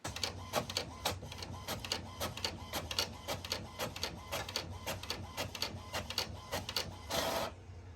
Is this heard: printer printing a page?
yes